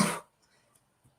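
A single short cough muffled into a shirt collar, fairly close and quick, followed by near silence with faint rustling.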